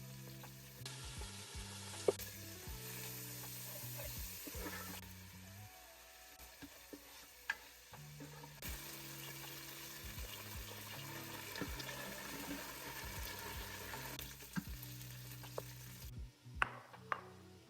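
A steady sizzle of shrimp frying in a pan with onions, with occasional clinks and stirring sounds and bits of running water, moderately quiet throughout.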